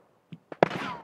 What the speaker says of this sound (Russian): После перезахода я услышал выстрелы.